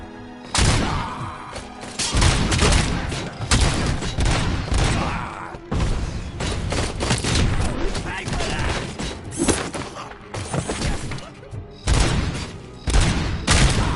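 Frag grenade blasts and gunfire in RoboCop: Rogue City, heavy booming explosions and rattling shots filling a dense, loud combat mix with almost no pauses.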